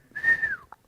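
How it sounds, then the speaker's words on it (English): Men give a single rising-then-falling wolf whistle, clear and fairly close, lasting about half a second with a short click after it and no talk. "The faceless men, the disfigured men are whistling at Matt"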